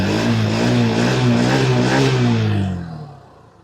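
A new 2026 TVS XL100 Heavy Duty moped engine runs close by with a steady, buzzing hum, then fades away as it winds down in the last second.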